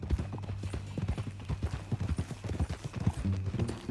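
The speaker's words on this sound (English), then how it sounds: "That a new horse?" Horse hooves clip-clop in a quick, steady rhythm in the video game Red Dead Redemption 2, close and clear, with low background music beneath.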